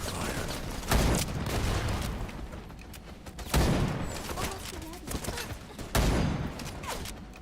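Gunfire in the video game Wild Assault: three heavy bursts of rapid shots about every two and a half seconds, each trailing into rattling echoes, under a steady battle din.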